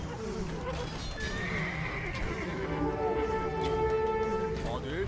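A horse neighs and whinnies in Age of Empires II, Dynasties of India, with hoof clip-clop and battle ambience, under a voice.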